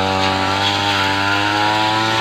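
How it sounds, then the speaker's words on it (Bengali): Grass-cutting machine with a plastic cutting head running at a Malaysian plantation, its engine droning steadily and loudly with a continuous harmonic whine throughout, close by with no talk. "আপনারা দেখতেছেন কিভাবে মেশিন দিয়ে ঘাস কাটা হয়।"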